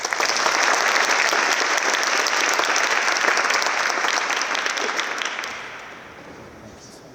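An audience at a lecture applauds to welcome a speaker, dense sustained clapping from a large crowd that holds steady for several seconds, then tapers off and fades near the end.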